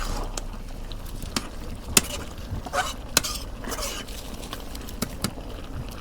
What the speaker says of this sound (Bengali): মাংসটুকু ভালো করে কষে নিতেছি